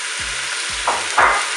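Mushrooms and onions brown in the pot of a Cookeo multicooker on its browning setting, giving a steady sizzle. Two or three low thuds and brief bursts of stirring break through it.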